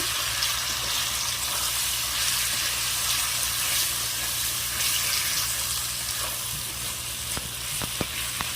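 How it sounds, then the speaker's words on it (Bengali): A spice paste of chopped tomato, salt, turmeric and chili powder fries for biryani with a steady, close, hissing sizzle, and a few light stirring knocks come near the end. "মশলাটা আমি ভালোভাবে কষে নেব"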